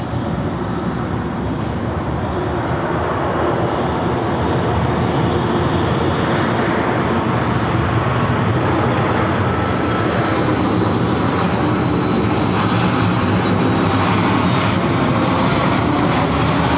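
Southwest Airlines Boeing 737 MAX 8 arriving at LAX, a loud sustained jet engine roar with broadband rumble holding steady and slowly swelling as the plane passes nearby.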